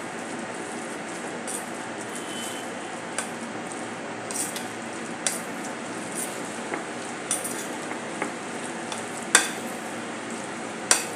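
Chilla batter being stirred by hand with finely chopped coriander, a steady soft scraping and sloshing with a few sharper spoon taps against the bowl, close and fairly quiet, with no talking.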